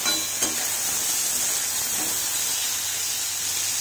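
Potato and bitter gourd frying with cumin in hot oil, a steady close sizzle and hiss with faint stirring clinks, no talk over it.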